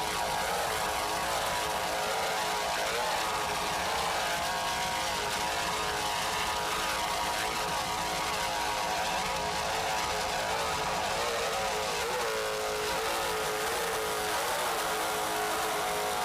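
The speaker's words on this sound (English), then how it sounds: "Just listen to those two 650-horsepower Zool racing engines." Two 650-horsepower Zool racing engines on an offshore powerboat in a C-Class race roar steadily and loudly throughout, a continuous heavy engine drone with no pauses and no talking.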